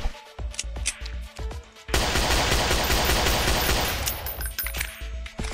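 Gunfire in the video game Dinosaur Hunter Africa: a few single loud shots, then a dense rapid burst of automatic fire lasting several seconds before tapering off, with no talking.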